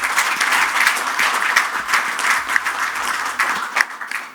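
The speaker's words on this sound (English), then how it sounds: "A round of applause to him." An audience at a real estate conclave applauds, with dense, sustained clapping that fills the hall and holds steady before tapering at the end.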